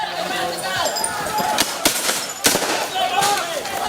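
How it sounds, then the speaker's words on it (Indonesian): Police firing tear gas shots during a clash with residents at an eviction site: several sharp, loud gunshot-like bangs ring out irregularly over a noisy crowd murmur and shouting. "Polisi yang terdesak kemudian bergerak maju dan melepaskan tembakan gas air mata"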